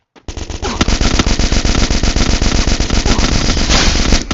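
Rapid automatic gunfire from the video game Free Fire, a dense, loud burst of shots fired continuously for about four seconds with no pauses.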